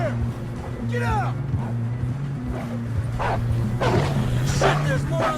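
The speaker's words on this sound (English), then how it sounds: "We got more wolves on the left!" Wolves bark and yelp in Red Dead Redemption 2, several sharp calls scattered over a droning background, with someone shouting in between.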